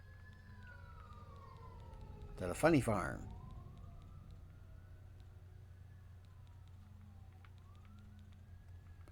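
A faint, rising and falling police-style siren wail drifts in from a distance behind a voice, continuing softly under a low steady hum.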